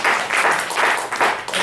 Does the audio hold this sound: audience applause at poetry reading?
yes